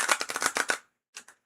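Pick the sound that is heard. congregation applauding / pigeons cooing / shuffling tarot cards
shuffling tarot cards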